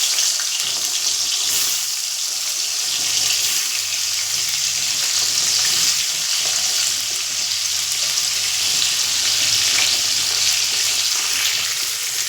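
Pointed gourds fry in hot white oil in a wok, giving a loud, continuous crackling sizzle that holds steady throughout, with occasional clicks of stirring and no talking.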